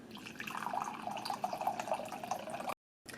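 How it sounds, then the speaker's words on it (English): Filtered water poured into a measuring cup, a close, soft trickling stream with a rising, bubbly tone as the cup fills, then a brief cutoff before it resumes faintly. "I'm going to measure out a cup of filtered water."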